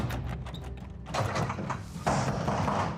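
A locked room door inside a house is knocked on and tried, giving a few dull thumps and rattles followed by a louder continuous shuffling and handle noise close by.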